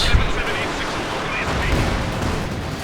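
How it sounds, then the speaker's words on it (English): Katyusha rocket artillery firing in a World War II strategy game, a dense continuous roar of launches and blasts with a heavy thump near the start, loud and unbroken, under a commentator's voice. "there we go, Katyusha firing away"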